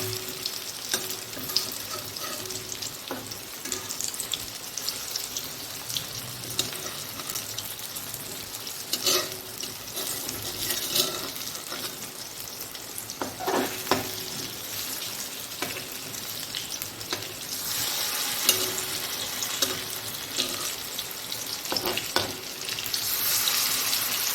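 Onion and green banana fritters fry in oil over a medium flame, a steady close crackling sizzle running throughout with occasional sharper pops and bursts, no voices.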